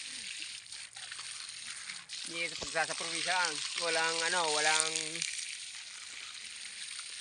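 Spring water gushing under strong pressure over a man bathing in the provinces, a steady loud rushing splash that runs through the whole stretch while he talks over it.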